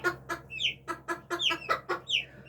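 Silkie and Japanese bantam chickens cluck in a quick run of about ten short, close calls, some rising into higher squawks, with nobody speaking.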